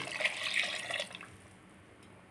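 After washing goat head meat for curry, water is poured out in a short, soft splashing stream that fades to a faint trickle, ending with a small clunk.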